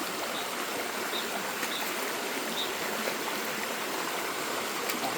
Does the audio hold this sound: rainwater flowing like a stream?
yes